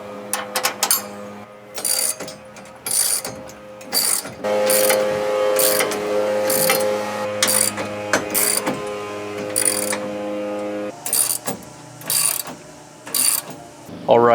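Ratchet tightening truck cross tube bolts, repeated bursts of rapid clicking in short rhythmic strokes, close and loud, with a steady mechanical hum between bursts.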